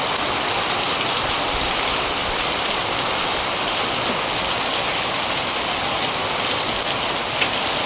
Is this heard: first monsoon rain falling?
yes